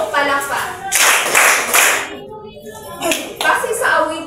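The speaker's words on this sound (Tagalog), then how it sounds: "Bigyan si Ate Precious ng 3 palakpak." Schoolchildren in a classroom clap together in rhythmic groups of three claps, two quick sharp bursts about two seconds apart, close and lively with young voices mixed in.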